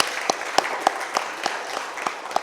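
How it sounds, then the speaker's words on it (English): Applause for a speaker at a business conference, a crowd clapping steadily with a few sharper individual claps standing out, moderately loud throughout. "a huge round of applause for Suman"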